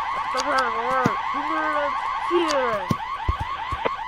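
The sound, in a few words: car alarm in the video game Hello Neighbor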